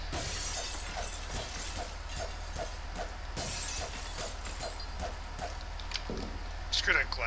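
Glass shattering inside a zombie video game, a loud crash near the start with further breaking bursts over a steady game soundscape, while someone talks over it.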